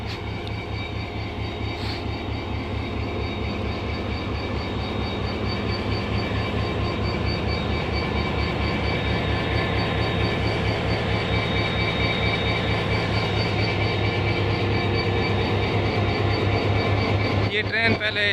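An old express train rolling onto an aged river bridge over the Chenab, a sustained loud rumble with rhythmic clattering of wheels on rails that builds steadily over the long pass.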